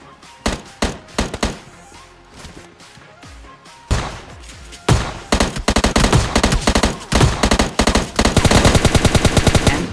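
M4 rifle gunfire in the PUBG Lite video game, loud and close: scattered single shots and short bursts at first, then rapid sustained automatic fire in tight repeated bursts.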